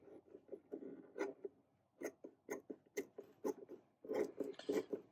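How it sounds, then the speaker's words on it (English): Scissors snipping through center console padding material for a 2017 Toyota Tacoma, a series of short, close, crisp cuts in uneven bursts with pauses between them, quiet and without talk. "My God, these scissors are terrible."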